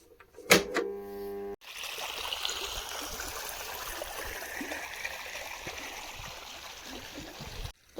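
Water from a farm pump motor pours and rushes steadily for several seconds after a brief click and thump, forming a constant close wash of flowing water.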